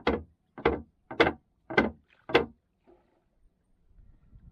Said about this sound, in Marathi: फळी आपटल्यावर ना जे जवळचे मासे आहेत ना ते आतमध्ये पळतात आणि ते पळाले काय त्याच्या जाळ्यात अडकतात